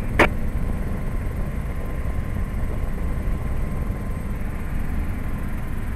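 A turbine helicopter drones steadily in the distance near French Valley airport at sunset, a constant low engine rumble with no voices.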